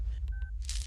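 A single short tone beep from phone keypad dialing, faint and brief over a low background hum, followed by a soft hiss.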